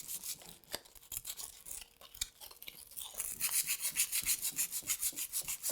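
Hand rubbing across Marabu Chalky Chic painted wood to distress it, soft scratchy strokes that turn into a steady, faster back-and-forth rhythm, close and alone.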